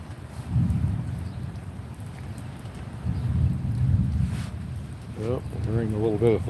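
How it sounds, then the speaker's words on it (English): Low, rolling rumble of distant thunder swelling and fading over steady rain-like noise, with a voice briefly speaking near the end. "we're hearing a little bit of thunder"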